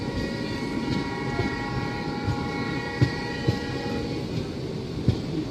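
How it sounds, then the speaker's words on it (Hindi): A Thar Express train sits at an Indian railway station, giving a steady low rumble and hum with faint clanks and knocks from the cars. No voices are heard. "सॉरी, महाराजा एक्सप्रेस नहीं है, थार एक्सप्रेस है ये"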